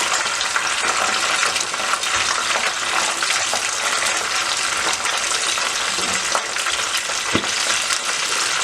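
Steady, dense sizzling and crackling of chicken wings deep-frying in hot oil, continuous and close throughout with occasional louder pops.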